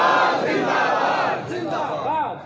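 A large crowd at a religious gathering loudly chants slogans such as Tajdar-e-Khatm-e-Nabuwat in unison, a dense roar of many voices with rising, drawn-out calls near the end.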